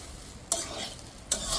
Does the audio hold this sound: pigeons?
no